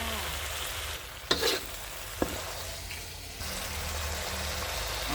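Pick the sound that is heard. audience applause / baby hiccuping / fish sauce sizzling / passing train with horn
fish sauce sizzling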